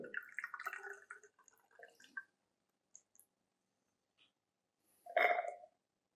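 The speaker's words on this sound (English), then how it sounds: "carefully I will add water to dilute it" Water being added to 50 ml of 1 N hydrochloric acid in a volumetric flask in a lab to dilute it to 100 ml; soft trickling and dripping for about two seconds, then quiet, then a brief louder splash near the end.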